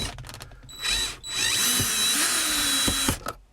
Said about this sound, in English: got all the screws out